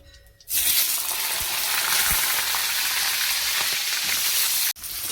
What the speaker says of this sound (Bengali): এবার এঁচোড়টাকে ভেজে নেব।